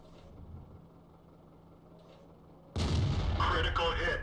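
A loud cannon blast from a tank in the World of Tanks video game cuts in abruptly after a quiet stretch of faint low rumble, then holds as a dense, booming roar with crackling debris to the end.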